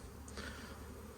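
Honeybees hum around a hive in a steady, quiet drone, with one brief closer buzz passing by.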